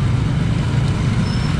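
Steady low rumble of slow, congested holiday traffic on Jalan Raya Banjaran Soreang, with cars, buses and trucks idling and creeping close by; continuous engine drone with no talk.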